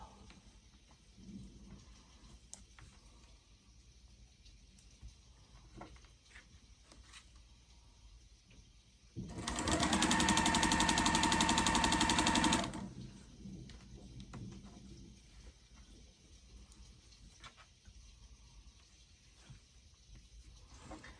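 Sewing machine stitching a sunflower quilt block after its bobbin was oiled and changed: a loud, steady whirring run of about three seconds, close by, between stretches of quiet room tone.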